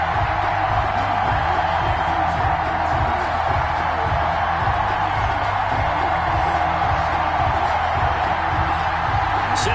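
A stadium crowd in an EA Sports NFL video game, Jacksonville Jaguars against Tennessee Titans, keeps up a steady roar under a rhythmic, pulsing backing beat, with no clear cheering peaks.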